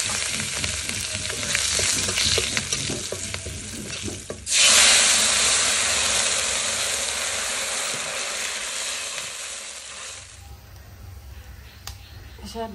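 Bay leaf, cumin and garlic dropped into hot oil burst into a loud hiss that slowly fades over several seconds, after earlier clatter and someone talking, ending in quieter background.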